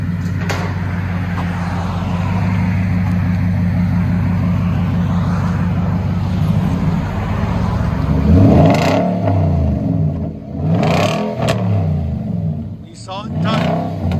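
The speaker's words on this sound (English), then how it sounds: "There's the muffler and tailpipe cut off." A Nissan Titan 5.6L V8 with its muffler and tailpipe cut off idles with a loud, deep burble, then revs sharply several times in close succession, and a voice speaks between the blips.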